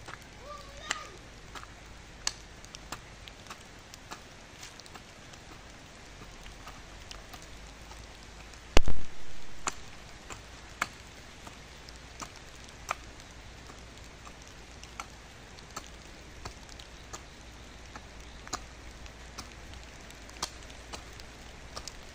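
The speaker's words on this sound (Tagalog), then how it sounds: "Umuulan na" Steady rain patters continuously across the whole stretch, with one louder knock or thump partway through and scattered drips standing out.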